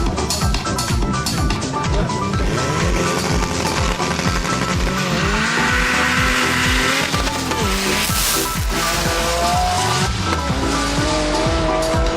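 Race cars in a pursuit race at Mostar roar past continuously, engines revving up and down with repeated tyre squeals and skids, loud and close throughout.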